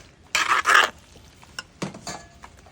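A masala curry is stirred in a pan, with two bursts of rough scraping close up followed by softer clinks and scrapes, and no talk.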